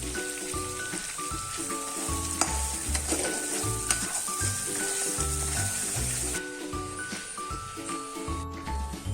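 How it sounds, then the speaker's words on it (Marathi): Ground masala hits very hot oil in a pan while mutton is being cooked, and it fries with a bright, steady crackling sizzle that continues close and loud throughout. "तर आता माझं हे तेल एकदम गरम झालेलं आहे. तर याच्यामध्ये मी आता आपण जो मगाशी मसाला बनवला होता तो टाकून घेणार आहे."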